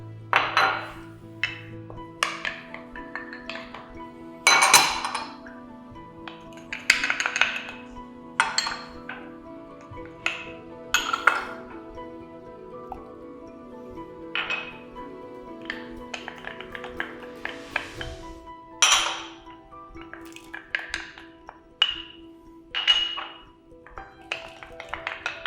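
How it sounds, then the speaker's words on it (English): Ingredients such as Cajun pepper and Thai red pepper going into a reduced crab soup stock, heard as scattered clinks, taps and rattles of containers, spoons and a pot, irregular and close against a quiet kitchen. "So we're just going to put all the ingredients in."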